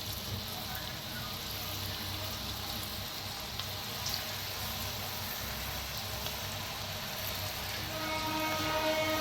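Potato and roasted-gram chakli deep-frying in hot oil give off a steady, crackling sizzle that holds at an even, moderate level throughout and swells slightly near the end.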